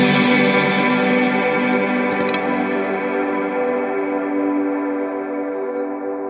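A sustained electric guitar chord played through a reverb pedal, drenched in lush reverb and chorus, ringing steadily and slowly decaying, with no voices.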